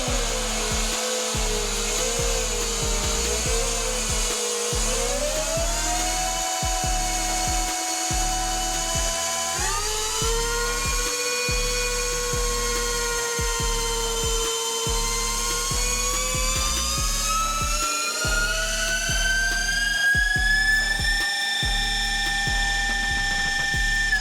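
A 72V Burromax XRB electric bike runs hard on a dyno, its motor whine climbing and dipping in pitch over a steady mechanical roar, with a rapid rhythmic pulsing throughout.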